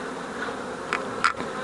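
Honey bees hum steadily around mini nucleus hives with mating queens, a close, continuous drone with a couple of brief louder passes near the end.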